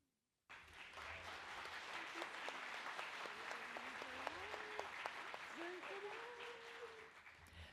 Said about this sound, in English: Please join me in another round of applause for all of our Arts and Sciences Award winners